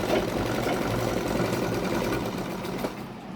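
A sewing machine stitches tucks into a blouse with a rapid, steady mechanical chatter at close range, then slows and stops toward the end.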